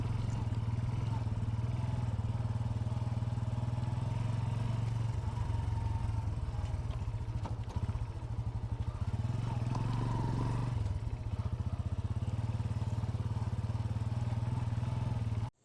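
A Bajaj Boxer motorcycle engine drones steadily throughout, loud and close with a constant low rumble and occasional rattling, riding along a rough dirt road.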